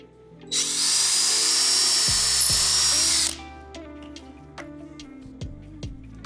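Power drill pre-drilling holes in wood during outdoor sauna assembly, one loud whining burst lasting a few seconds, followed by quieter scattered ticks and clicks.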